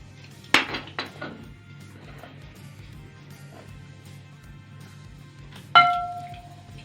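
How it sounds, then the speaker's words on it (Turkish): A slice of no-bake fruit cake being cut on a plate, with two sharp ringing clinks of utensil against the dish, one near the start and one near the end, over a quiet background. "Hemen bir dilim daha kesiyorum arkadaşlar."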